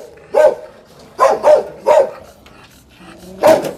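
Several loud, close dog barks come in bursts around a dairy farm while new dairy cows arrive, spaced across a few seconds with short gaps between them.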